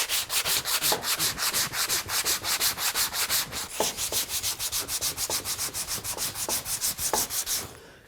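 Sandpaper glued to a block scuff-sanding a wood marquetry veneer held in a clamping jig, a close, steady back-and-forth rasping of about three strokes per second with no talk.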